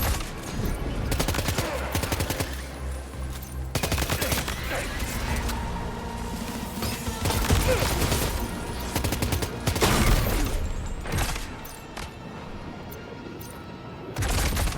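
Video game gunfire in Death Stranding 2, dense bursts of rapid shots and automatic fire stacking loud and close for most of the stretch, with brief lulls between volleys.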